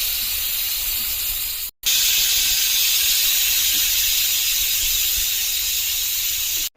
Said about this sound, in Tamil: நாலு விசில் வந்துடுச்சு.